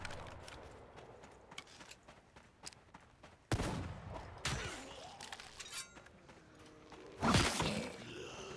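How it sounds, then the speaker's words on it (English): Several loud, sharp bursts of gunfire ring out at irregular intervals over a quieter background, with sizable gaps between shots. "There's the gunfire."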